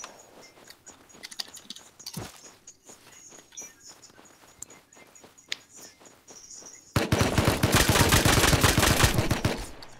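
Video game gunfire: scattered sharp shots crack over a faint chirping insect-like ambience, then a dense, loud burst of rapid automatic fire takes over for the last few seconds, with no talk.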